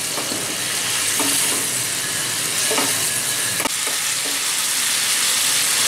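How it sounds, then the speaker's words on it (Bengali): Bhagon fish curry masala with chili and ginger sizzles loudly in a pan, a dense continuous frying hiss broken by a few scraping stirs, up close with no voices. "অল্প জল দিয়ে একটু আবার কষে নেব যেহেতু লঙ্কা আর আদা দিয়েছি"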